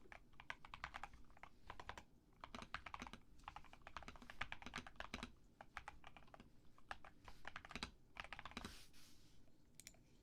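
Close, quiet typing on a computer keyboard during late-night ASMR, a dense run of crisp key clicks and taps with no talking.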